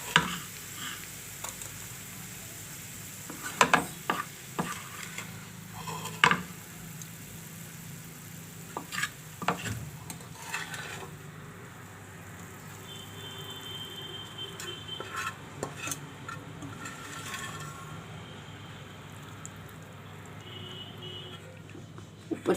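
Cooked onion khariyu is served from a pan with a spoon, with faint sizzling under a series of sharp metal spoon clinks and scrapes against the pan and dish.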